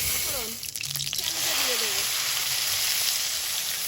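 Steady, loud sizzling hiss of food frying in hot oil in a wok, with a brief voice speaking at the start.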